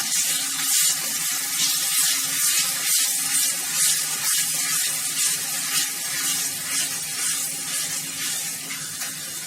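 Chopped garlic frying in a pan while cooking crunchy masala okra, a steady dense hiss of oil filling the whole stretch at fairly close range, with no talk over it.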